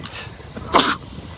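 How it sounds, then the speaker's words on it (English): A single sneeze blamed on red tide irritation during a morning beach walk in North Naples, Florida, bursting out sharply and close amid faint beach ambience. "Red tide sneeze now."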